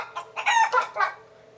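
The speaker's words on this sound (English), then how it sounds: "What's the sound of chicken?" A chicken clucks in a quick run of four or five close, loud calls, rising and then trailing off, with nothing else heard.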